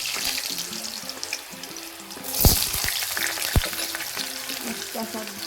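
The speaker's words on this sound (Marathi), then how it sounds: "अगोदर मी बटाटा टाकणार आहे।" Chopped potato drops into hot oil in a pan while cooking sabudana khichdi, giving steady crackling sizzle with a couple of sharp clatters and splashes as pieces go in, close and moderately loud.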